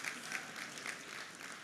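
Applause from the audience at a college football press luncheon, a quiet, continuous patter of clapping heard from a distance with faint background murmur.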